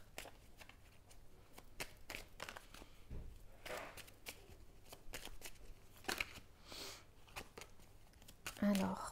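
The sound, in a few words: shuffling Ho'oponopono oracle cards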